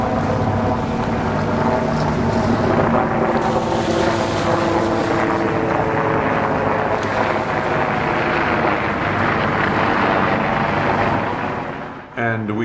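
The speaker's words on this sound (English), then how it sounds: "can hear a helicopter passing overhead" In Brooklyn Bridge Park, a helicopter passes overhead as a steady, loud rotor drone that swells and fades, mixed with wind buffeting the microphone.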